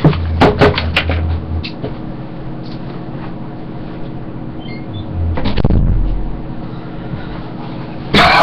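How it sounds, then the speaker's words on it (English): An indoor door is shut, giving a few sharp knocks near the start and a thudding close around the middle, then a final bump, with quiet room tone between and no talking. "I gotta close my door real quick."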